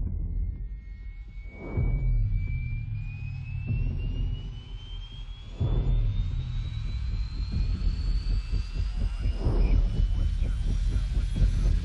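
A helicopter flies past in a scene from the film Kong: Skull Island, a steady engine roar with a rising whine that swells and fades in repeated passes and holds loud throughout.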